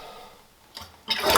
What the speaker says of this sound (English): Let's flush it a couple times and see what happens.